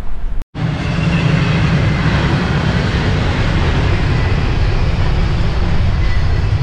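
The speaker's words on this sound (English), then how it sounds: "Does that train seem like it's going fast to you?" A loud, steady rumble of a train passing close by, continuous roar with rattling wheels, after a brief cut at the start.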